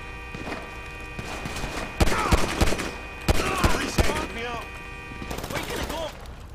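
Gunfire in Grand Theft Auto 5 gameplay, bursts of rapid shots and heavier booming reports in clusters, loud and close, mixed with game voices and ambient noise.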